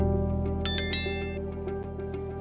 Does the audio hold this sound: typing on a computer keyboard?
no